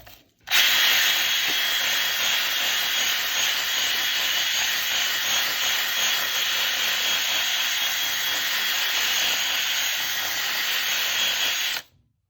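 A drill-mounted wire brush spins against an engine cylinder wall, a loud, sustained high-pitched whirring scour that starts abruptly and runs steadily for about eleven seconds before cutting off.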